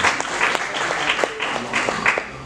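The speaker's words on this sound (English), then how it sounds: "Sir, I want a clap." Audience at a medical conference clapping in a steady, dense burst of applause, moderately loud throughout the short stretch.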